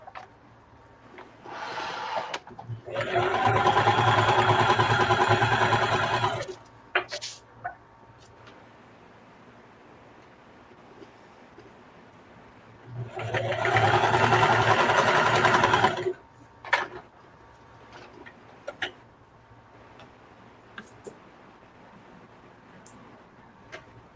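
A sewing machine topstitches a fabric bucket hat in two steady bursts of stitching, each a few seconds long, with quiet gaps and small clicks between them.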